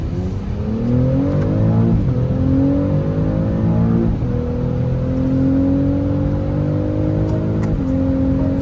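A car engine revs loudly and close by, the pitch climbing and dropping several times as it works through the gears.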